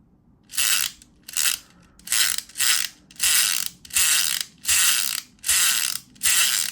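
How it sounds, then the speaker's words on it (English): A toy gun ratchet on a KB Toys exclusive Energon Super-Con Cyclonus figure clicks back and forth, about nine even bursts of rapid, close plastic clicking with short gaps between them. "Now when you pull his little trigger here, his gun now ratchets back and forth."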